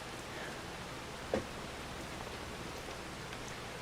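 Steady, faint rain hisses in Farming Simulator 25 on the Hutan Pantai map. The even patter is broken once by a brief soft tap.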